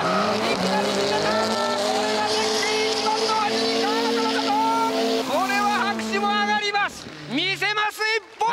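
A D1GP drift car at Autopolis swings sideways at about 195 km/h with a loud, sustained engine roar and screeching tire squeal, then bursts of rising squeals near the end, with excited commentary running over it.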